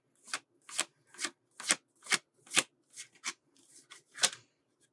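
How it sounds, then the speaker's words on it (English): Deck of advice cards being shuffled by hand in about ten quick riffling bursts, each a short papery rush with brief pauses between, close and fairly quiet with no talking. "I'm going to pull you some advice cards."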